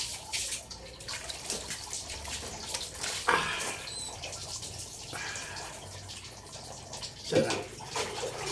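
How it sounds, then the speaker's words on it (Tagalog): Someone soaking in a basin of warm water on a hot day makes irregular splashes and sloshes, with scattered drips and a couple of louder swirls. The sounds are close, with quiet water movement in between. "Yung pagbababad ko sa tubig sa tabo."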